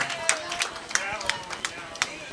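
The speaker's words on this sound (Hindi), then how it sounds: "जोरदार तालियां हो जाए दोस्तों" Audience clapping at a national award ceremony, several distinct bursts of hand claps at a steady pace over a background hum, fairly close and moderately loud.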